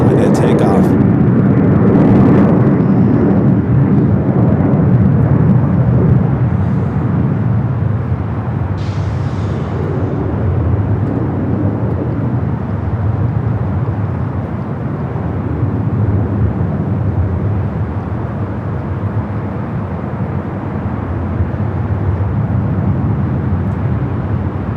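A jet airliner taking off from the north side at LAX, a loud broad roar that is heaviest at first and slowly eases, with voices present over it.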